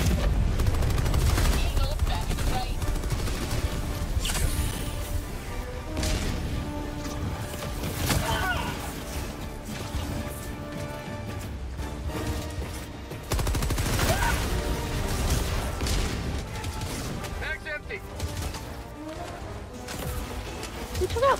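Cluster bomb blasts and gunfire in a Metal Gear game, a long stretch of rumbling explosions and rattling shots with layered music and effects, and players chatting over the din.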